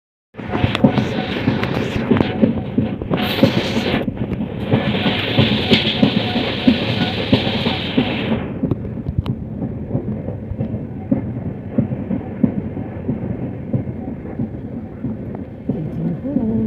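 A passenger train rolls along the rails on an Indian journey, producing a loud continuous rumble with faint rhythmic clatter that shifts in tone partway through.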